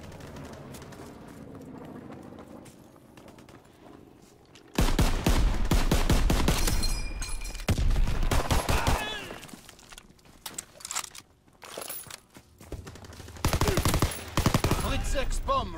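Loud M1 Garand rifle fire in a Battlefield-style match on the Gibraltar map, with sharp, repeated bursts of shots that begin after a quieter stretch and come in several close, loud clusters, mixed with game voice callouts.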